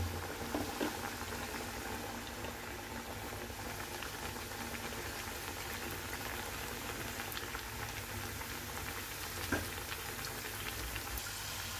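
Samosas deep frying in a pan of hot oil produce a low, constant bubbling fizz, steady and fairly quiet, with an occasional small pop.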